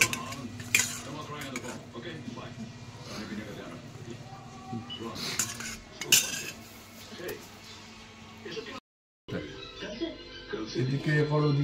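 Dishes, pots and cutlery clink and scrape while biryani with potatoes is served out, irregular close knocks and chinks mixed with talking, and a brief silent gap partway through.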